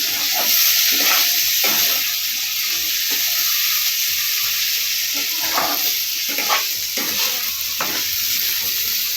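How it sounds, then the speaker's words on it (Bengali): Green beans fry lightly over a low flame for a semolina upma, with a constant loud sizzle and hiss and a spatula stirring and scraping the pan at irregular intervals. "দিয়ে এর সঙ্গে নেড়ে একটু হালকা হালকাভাবে ভেজে নেব"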